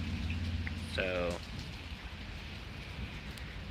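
Steady rain falls throughout a severe thunderstorm in Pittsburg, Kansas, a continuous hiss with a brief tonal burst near the start and a sharp crack at the very end, while low rumbling sits underneath.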